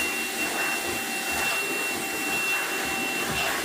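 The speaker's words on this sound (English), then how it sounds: "Just let me vacuum up these little bit of wood chips here." A vacuum cleaner runs close by, sucking up small wood chips during a sunflower wreath craft project, with a steady loud whine and airy roar throughout.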